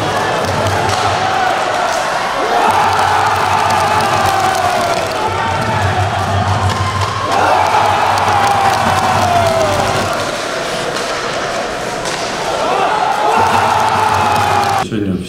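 A small crowd of hockey fans cheers and whoops at a Dynamo-Altai ice hockey match, loud continuous rink noise with rising shouts, thumps and chanting across the stretch.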